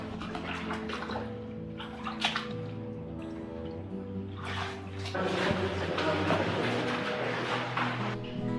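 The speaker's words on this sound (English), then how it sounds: "I can hear water that way" Water flows somewhere in an old underground tunnel as a faint, steady wash with scattered drips. The sound swells louder toward the end over a low background.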